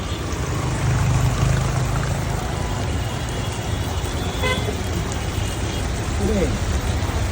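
Heavy rain pours steadily during a sudden flood, a dense constant wash of noise with a vehicle horn toot partway through and voices talking faintly underneath.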